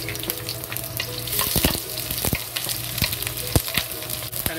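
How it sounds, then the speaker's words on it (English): Onion tossed into hot vegetable oil in a pot, crackling and sizzling loudly and close, with frequent sharp clatters of a spatula stirring against the metal. "When the oil is hot, we add the onion into it."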